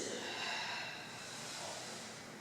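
Steady, audible breathing in and out during an abdominal exercise, a continuous airy hiss with no voice, close and moderately quiet throughout.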